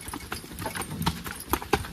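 Draft horses' hooves clip-clopping in an uneven walking rhythm on a woodland logging job, close and moderately loud, with no talk over them.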